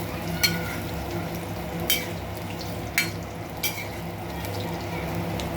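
Food sautés in a pan with a steady close sizzle, broken by four brief spoon scrapes and knocks spaced a second or so apart.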